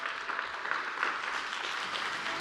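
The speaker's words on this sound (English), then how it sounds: "Give them a round of applause." Conference audience at a tech summit applauds a panel coming on stage, a short, even wash of clapping at moderate distance.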